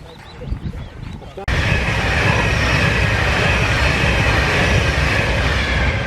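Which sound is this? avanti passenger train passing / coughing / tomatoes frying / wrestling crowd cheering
avanti passenger train passing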